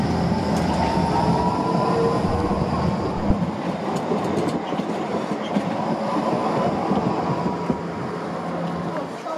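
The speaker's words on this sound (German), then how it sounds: "Diese fahren nun hier gemeinsam in die dritte Haltestelle am Hauptbahnhof ein, die Haltestelle Hauptbahnhof Nord." Dresden trams pull into the Hauptbahnhof Nord stop together, with a continuous loud rumble of wheels on rails and brief metallic squeals and clicks as they roll in.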